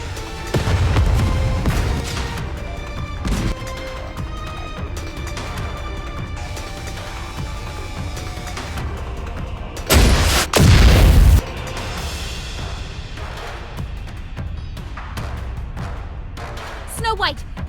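Artillery explosions in an anime battle scene: deep booms and heavy blasts, the loudest a dense burst in the middle, over a continuous rumble of combat noise and music, with people shouting and talking throughout.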